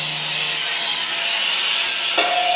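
Abrasive grinding of weld points on a metal railing beside a rural house's fishing platform, a steady broadband rasping that runs unbroken throughout, close and fairly loud, with a brief tonal squeal near the end and no talk.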